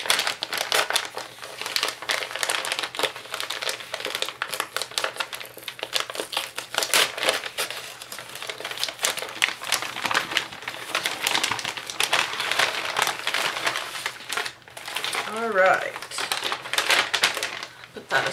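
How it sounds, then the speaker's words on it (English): Heavy wrapping paper being unwrapped, with loud, dense crinkling and crackling in rapid bursts throughout, a brief tearing flurry near the end, and someone talking between the rustles. "That's really heavy wrapping paper."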